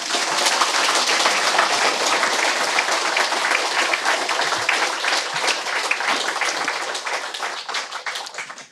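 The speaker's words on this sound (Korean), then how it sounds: "박수를 치려면 신나게 치죠." A crowd at a meditation practice gathering in a Jeungsando training hall in Seoul's Gangnam claps vigorously, with dense, continuous applause filling the room from start to finish before tapering briefly at the end.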